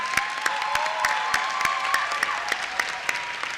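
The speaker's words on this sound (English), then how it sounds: "can we all give a round of applause to our students?" An audience applauds students at an academic excellence awards ceremony, a steady, moderately distant patter of many hands with a few sharp nearby claps standing out.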